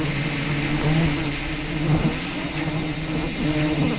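Swarm of bees buzzing around a honey hunter high up a tall tree, a dense, steady drone with a hum that rises and falls, close and fairly loud, with no talk.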